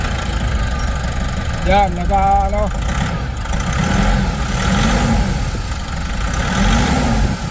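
A Nissan NV350 van engine with a low-power fault and check-engine light idles steadily close by, its low hum carrying a faint rhythmic knock and a brief whistling hiss, while someone talks over it.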